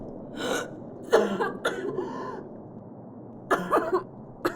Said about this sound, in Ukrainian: Сподіваюся, ти не заразишся від мене цим бридким кашлем.